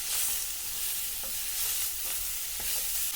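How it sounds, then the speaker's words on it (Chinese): Carrot and mushroom slices stir-fried in a hot wok give a steady close sizzle with occasional scrapes and tosses of the spatula, no voices. "接下来把胡萝卜片和香菇片加进来"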